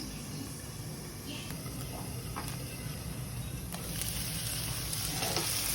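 Carrots and chayote cook in a covered pan with a steady, soft sizzle and hiss, a few faint clicks, and a voice speaking at low level over it.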